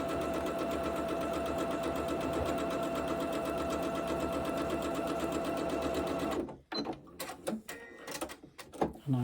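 A sewing machine stitches jelly roll quilt fabric in a fast, steady whirring run for about six seconds, then stops and gives way to a few short, uneven handling noises.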